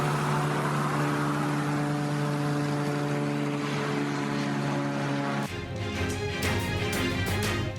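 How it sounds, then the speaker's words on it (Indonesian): A steady droning aircraft engine passes overhead in the sky over Israel with a sustained hum, then gives way to rough, fluttering noise near the end. "Warga merekam sebuah pesawat melintasi langit Israel."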